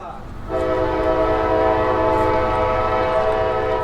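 A southbound freight train sounds a loud, sustained horn blast nearby, which begins abruptly and holds over the low rumble of the rails.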